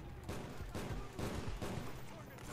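Rapid bursts of hip-fire gunfire in Call of Duty: Black Ops, with several loud clustered volleys over a couple of seconds.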